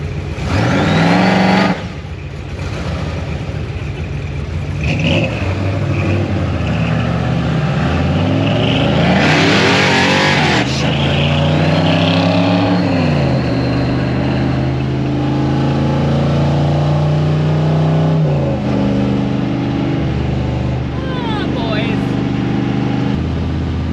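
A 1955 Chevy accelerates hard down the road, heard from inside as the engine note climbs in repeated rising sweeps through the gears, loud and close, with voices faintly present.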